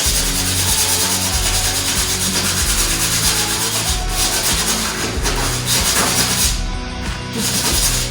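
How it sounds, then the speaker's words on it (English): A fibreglass car hood is scuffed by hand with 180 grit sandpaper, a loud, close, continuous rasping rub in steady back-and-forth strokes that runs the whole time. "So first I'm using a little bit of 180. I'm just giving it kind of a little scuff"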